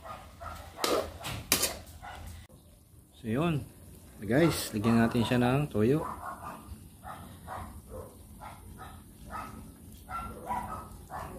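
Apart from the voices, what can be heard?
dog barking outside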